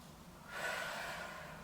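A long, steady out-breath during a flexing and extending exercise session, rising as a soft broadband rush after a quiet start and holding close and audible for over a second with no talk.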